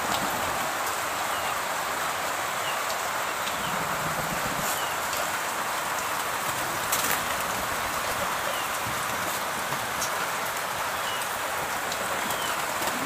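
Steady rain falls around a pigeon loft on a wet day, a dense, constant patter and hiss with no breaks.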